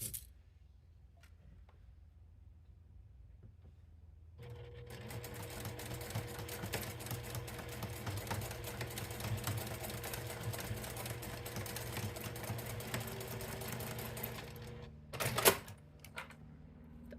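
A sewing machine stitches fabric for a zipper pouch. It runs at a fast, steady pace for about ten seconds after a quiet start, then stops with a brief clatter.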